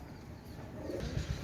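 A pair of golden pigeons cooing close by, soft throaty coos rising toward the end with no talking.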